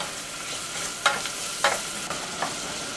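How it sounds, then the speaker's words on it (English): Onions cook in butter over medium heat, turning brown as they caramelize, heard as a faint steady sizzle broken by a few short scraping stirs. "the onions have a brown color to them. They're starting to caramelize with the butter"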